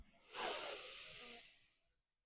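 A single deep inhalation during a breathing exercise, a close, breathy rush of air drawn in for about a second and a half that tapers off into silence.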